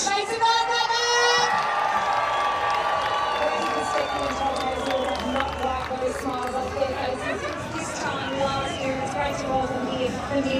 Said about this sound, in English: making the biggest cheer that Russell Street has ever heard